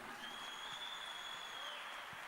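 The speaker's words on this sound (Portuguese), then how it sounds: "Aplaude bem forte ao Senhor Jesus aí." A church congregation claps for Jesus during a Bible study, a faint, steady patter of many hands spread across the room, with a thin whistle-like tone lingering above it.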